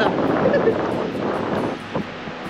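Sea waves wash along a Konkan beach near Velas in a steady, close roar, heavily buffeted by wind on the microphone.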